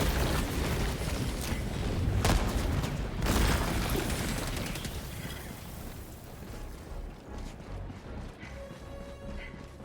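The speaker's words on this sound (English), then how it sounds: "Throwing grenade." A grenade blast in Helldivers 2 erupts as a loud, broad roar with a crashing burst, then rumbles down into quieter battle noise with a few scattered clanks.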